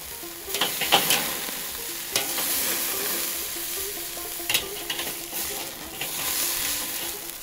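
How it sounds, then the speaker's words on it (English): Steak searing on a grill grate as it is pressed down, a steady close sizzle with scattered sharp crackles and pops, no talking. "Press this side down, let it sear real well too."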